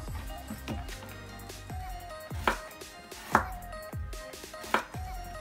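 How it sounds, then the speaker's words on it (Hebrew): A knife slices beetroot thinly for a beet stew, with steady, close chopping thuds on a cutting board, several cuts in a loose rhythm. "אני ממליצה לחתוך את הסלק יחסית דק, לא עבה"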